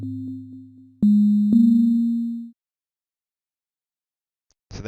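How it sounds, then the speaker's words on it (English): Synthesized tones with an echo effect: a low sustained note, then three sharp note attacks, the last ringing out and decaying for about a second and a half, followed by silence and a brief noise burst at the end. "these first 3 notes that are played sound sort of drawn out, echoey, like you're in a cavern or a cave"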